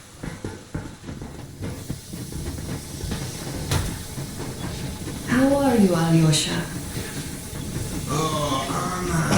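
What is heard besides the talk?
steam train departing in video game Metro Exodus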